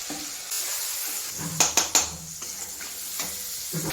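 Kashmiri chilli, hot chilli, turmeric, coriander and cumin sizzle in a pan after water is added, for a vegetarian jackfruit curry; a steady close hiss with three quick utensil clinks against the pan midway.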